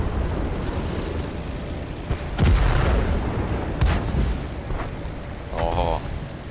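Tank cannon blasts in the video game World of Tanks, two heavy booming shots a second or so apart followed by rumbling, with people talking over the game sounds.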